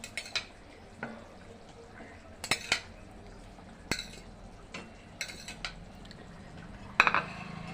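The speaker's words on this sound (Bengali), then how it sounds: "এখানে আমি মাছের পিসগুলো দিয়ে একটু খুন্তিটা দিয়ে এইভাবে চেপে চেপে বসিয়ে দিচ্ছি।" A metal spatula in a pot presses fried rohu fish pieces into a potato and pointed gourd curry. It gives sparse, sharp clinks and scrapes at uneven intervals over a quiet background.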